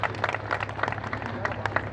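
An audience claps at an outdoor patriotic gathering, producing a quick, uneven patter of many hands that carries on steadily with crowd murmur underneath.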